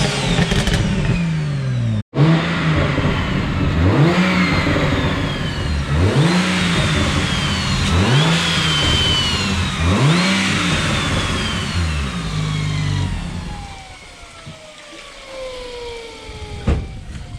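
A twin-scroll turbo BMW 335i revs repeatedly, each rise and fall loud and close in a regular rhythm, then the engine winds down with turbo whine trailing off.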